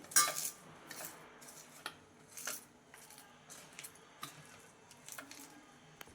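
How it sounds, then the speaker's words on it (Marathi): Cabbage being stirred into gram-flour batter for gobi bhajji, with close, irregular clinks and scrapes of a spoon against a metal bowl and soft wet mixing noises, no talking. "पत्ताकोबी थोडी घालून घेऊया आणि मिक्स करत हवे ठेवायचं आहे।"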